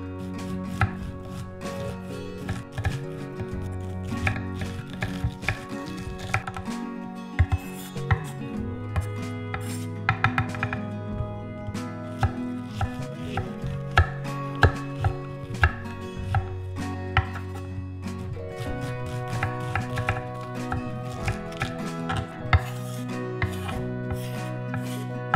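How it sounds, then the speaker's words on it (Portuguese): An onion is sliced thinly with a knife on a cutting board, producing a long, steady run of quick crisp chops and taps close up, with no voices. "Tente seguir aproximadamente os veios da cebola, e isso vai garantir um corte bem fino."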